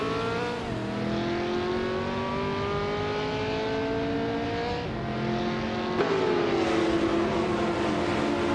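A 1971 Ferrari 512M prototype race car engine screams at high revs during a race, its pitch rising and falling through gear changes, loud and steady with a brief dip and surge near the end.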